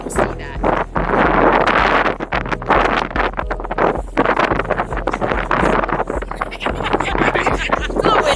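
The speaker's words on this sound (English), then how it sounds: "It's a little windy out here" Strong wind buffets the microphone outdoors beside an RV, a loud, roaring rush with gusty surges throughout and no talk.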